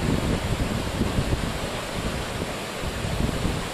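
Flooded small river or large stream rushing after heavy rain at Nynehead, a broad, continuous roar of churning water close by, steady and loud with no voices.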